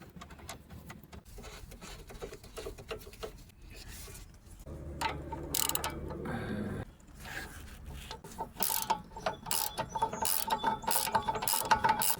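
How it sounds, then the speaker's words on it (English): A ratchet tightening a nut on the bottom of a new front sway bar link on a 2018 Honda CR-V: bursts of rapid clicking pawl ticks with pauses, close by, alongside other mechanical rustles. "Installing the nut here on the bottom."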